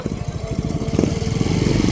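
A motorcycle engine runs close by, a loud, fast pulsing putter that holds steady and grows slightly stronger toward the end, with no voices over it.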